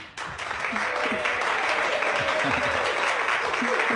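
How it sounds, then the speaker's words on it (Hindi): A live audience gives sustained, dense applause that carries on steadily throughout, with voices faintly audible underneath. "इनके लिए जोरदार तालियां प्लीज"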